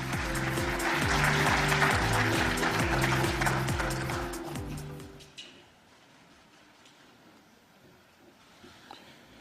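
An audience at a seminar day gives a big round of applause welcoming the ADB president, loud full clapping over a backdrop of music for about five seconds before it cuts away to a quiet room.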